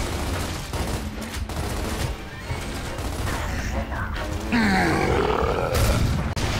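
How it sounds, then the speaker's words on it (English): A turret cannon fires in the shooter game Gears of War amid dense, continuous battle noise, with heavy booms, crackling gunfire and grunts layered throughout at high volume. "Can we get some help with the turret over here? I'm trying to shoot him with a freaking cannon!"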